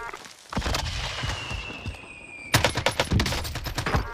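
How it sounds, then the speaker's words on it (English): Video game gunfire: a burst of rapid shots, a brief lull, then a louder string of close automatic fire crackling in quick succession. "Shots, Reaper."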